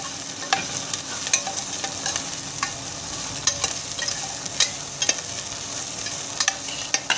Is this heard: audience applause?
no